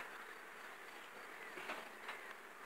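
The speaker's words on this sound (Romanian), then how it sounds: "Asta este roiul care l-am prezentat eu, cel mai bun roi de anul trecut." A honeybee swarm in a hive at an acacia-honey apiary, heard as a steady, faint buzzing hum with a few slightly louder swells and no talk.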